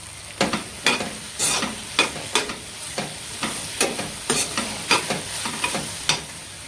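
Tomatoes fry in oil in a pan for a spicy dry cowpea-pod dish, a steady sizzle broken by regular scraping strokes of a spoon, close and alone.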